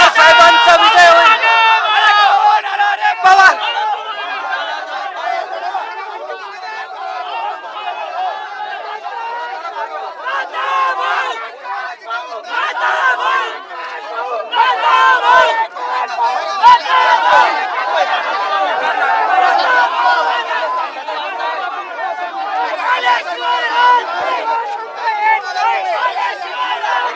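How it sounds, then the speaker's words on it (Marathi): Eknath Khadse supporters celebrating at the Vidhan Bhavan during the Vidhan Parishad election: a dense crowd of shouting, chanting voices with bursts of louder cheering, sustained and close. "एकनाथ खडसे यांचे समर्थक जल्लोष करत आहेत"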